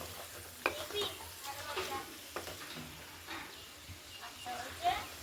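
Chicken masala stir-fried in a pan, meat being coated and browned with a steady soft sizzle and scraping stirs, with a voice talking over it at times.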